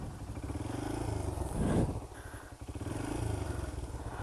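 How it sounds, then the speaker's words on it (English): A Honda CRF 80F dirt bike's engine idles low, holding a steady close-up rumble with a brief louder surge partway through. "Okay, it's idling. Very low."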